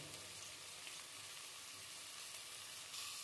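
Salt, black masala, red chilli powder and turmeric sautéing in hot oil for mutton biryani, giving a steady, even sizzle with a soft, continuous frying hiss throughout and no talking.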